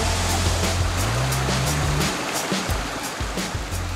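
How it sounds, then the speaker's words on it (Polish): A wild waterfall and the Łomnica stream rush beside Strażacka Street in Karpacz in the mountains, producing a loud, steady broadband roar with a low droning rumble underneath. "szum wodospadu i strumienia, Łomnica"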